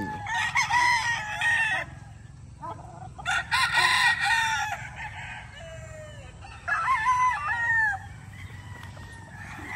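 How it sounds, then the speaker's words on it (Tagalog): Boston Roundhead chickens and roosters crow loudly and close by, in three separate crowing bursts with clucking between them, and nobody speaks. "Naglalabasan yung mga manok."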